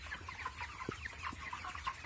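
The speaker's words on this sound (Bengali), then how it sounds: "এই যে এখানে একটা মুরগি ডাকে ব্যাঙের মতো।" A chicken gives faint, repeated short croaking calls that resemble a frog, in quick rhythmic succession at a distance, with soft thumps underneath.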